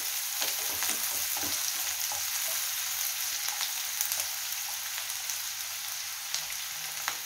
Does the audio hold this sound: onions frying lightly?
yes